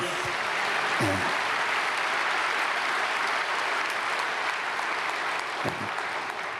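Sustained congregation applause fills a church during a Sunday praise worship service, a steady dense wash of clapping from a large crowd with no speech over it.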